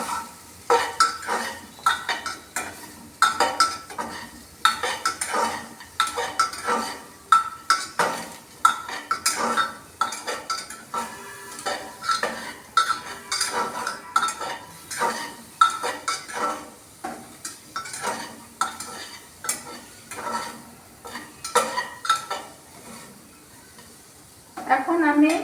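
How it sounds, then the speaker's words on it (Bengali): Papaya curry with spices being stirred in a pan, a spoon scraping and clinking against the metal in a steady irregular rhythm over a soft sizzle throughout, close and moderately loud, with no talking. "আরও একবার এই মশলাটা চারপাশে লাগার জন্য আমি এটা নাড়াচাড়া করে দিচ্ছি"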